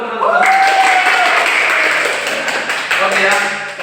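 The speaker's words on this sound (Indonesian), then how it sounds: "Tepuk tangan dong buat teman-teman." A room of young schoolchildren at a waste-sorting hygiene lesson claps and cheers loudly, the applause swelling at first and then continuing in scattered bursts, with young voices mixed in.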